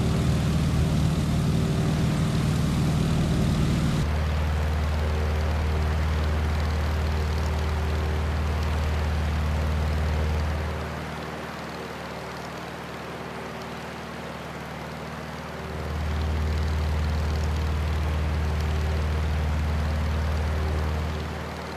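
A Stearman biplane in Microsoft Flight drones steadily on its landing approach. The propeller engine holds a low, even hum, drops to a quieter throttle-back for a few seconds, then swells again.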